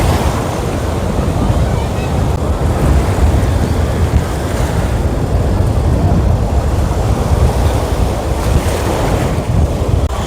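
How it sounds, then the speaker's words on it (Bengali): Rough sea surf at Digha beach roars continuously and loudly, waves breaking one after another with a steady wash of wind buffeting the microphone throughout. "ঢেউয়ের পর ঢেউ দিচ্ছে, ঢেউয়ের পর ঢেউ"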